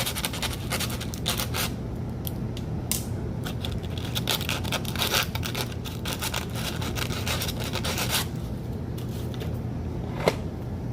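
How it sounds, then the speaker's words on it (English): Hand sanding with 150 grit sandpaper to clear small burrs from a rough metal edge: steady, close scratchy rasping strokes repeating for the whole stretch over a low background hum. "Let me see if I can take some sandpaper, and this is some 150 grit, just so I can make sure there's no small minor burrs on it."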